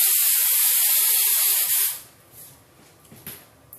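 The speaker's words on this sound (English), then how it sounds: "you're just going to spray it down with a hairspray again" A loud, close hairspray aerosol hisses steadily for about two seconds, then stops, leaving faint handling noises and quiet rustles.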